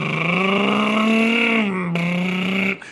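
Tractor engine in the video game The Long Dark, Pleasant Valley area: a loud, steady droning hum that swells slightly in pitch, dips, then cuts off abruptly near the end, with no talking.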